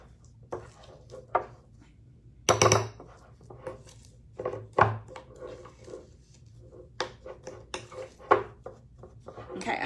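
Shower steamer mixture being mixed with oils in a bowl, giving soft intermittent scraping, squishing and light knocking against the container at close range, with quiet room tone between strokes.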